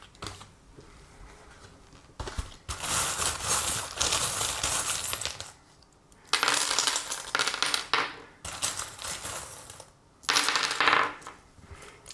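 Small charms for a card reading are shaken and cast onto a surface in three bursts, rattling and clinking crisply up close with quiet pauses between.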